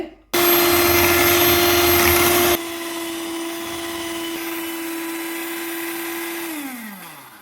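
An electric beater whips cream for a homemade cake, starting with a loud, steady high-pitched whir, then dropping to a lower, quieter drone before winding down at the end.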